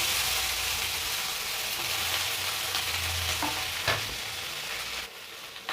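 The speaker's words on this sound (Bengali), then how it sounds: "আমি এবার চিচিঙ্গা ভেজে নেব।" Ridge gourd fries and is stirred in a pan, a dense steady sizzle with scraping stir strokes, close and continuous, ending in a sharper clatter near the end.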